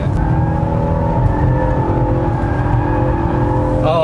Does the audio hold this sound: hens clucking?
no